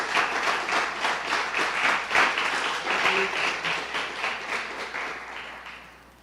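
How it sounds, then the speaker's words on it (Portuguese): A church congregation gives a round of applause during a morning service, many hands clapping in a rhythmic, pulsing pattern that stays strong and then gradually fades toward the end. "Será que você pode dar uma salva de palmas ao Senhor?"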